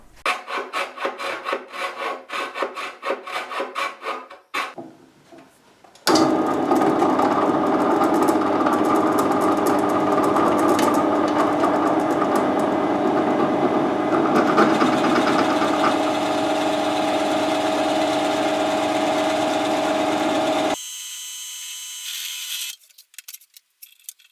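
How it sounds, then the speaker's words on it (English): A drill bores round holes at either end of the f-hole outlines in the wooden body of an ES-335 style guitar, a steady whining drone lasting about fifteen seconds, framed by rhythmic rasping strokes before and short bursts after. "the next thing we need to do is just drill out the round sections at either end"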